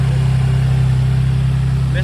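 Nissan 350Z with a VQ35DE engine idling close by just after a crank pulley install, a steady pulsing low hum with a voice talking over it.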